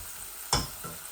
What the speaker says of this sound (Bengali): লবণ দিছি, রসুন দিছি আর পেঁয়াজগুলা বাজিলাই